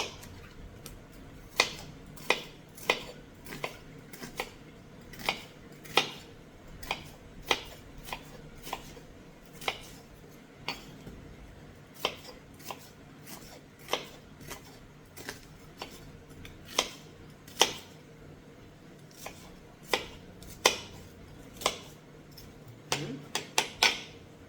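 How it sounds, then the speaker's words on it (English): A knife chops an onion on a board in a steady, fairly quick series of sharp, close taps, about one per second, with no voices over it. "Let's cut our onion."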